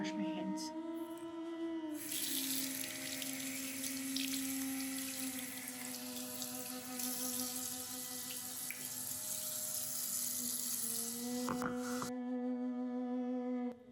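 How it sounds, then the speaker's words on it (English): A tap runs steadily in a hotel bathroom sink for hand washing, a continuous broadband hiss of flowing water lasting about ten seconds before it cuts off, with faint tonal hum beneath. "Alright, time to wash my hands."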